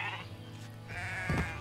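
Sheep bleat in the video game Renowned Explorers, with a couple of drawn-out, wavering baas over a constant background of game music.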